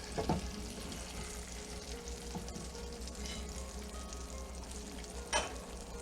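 An egg sizzles and fries steadily in a hot pan for a loco moco, a continuous close crackle with a couple of brief clinks and scrapes.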